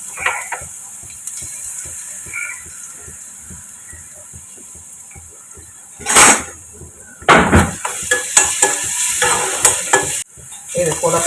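A tempering of crushed pepper, cumin, garlic and shallots for crab rasam, spluttering in a pan. A soft, rapid crackle at first, then louder bursts of sizzle and hiss with stirring scrapes toward the end.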